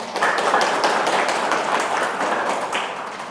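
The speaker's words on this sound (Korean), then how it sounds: "다시 한번 큰 박수 부탁드리겠습니다." An audience applauds at the close of a law lecture, a dense, moderately loud round of clapping with a few sharper individual claps standing out.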